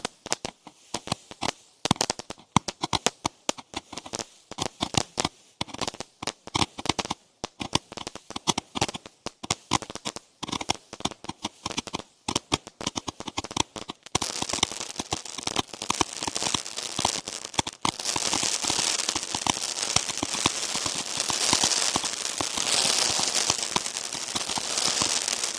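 A consumer firework fountain crackles and pops densely in rapid irregular bursts, building into a continuous loud hissing shower in the latter half, heard alone without talk.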